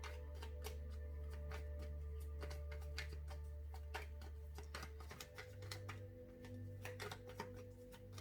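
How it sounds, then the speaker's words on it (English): Tarot cards are shuffled close up in quick crisp riffles and taps, with a low steady hum underneath and no voices. "Let's shuffle some more."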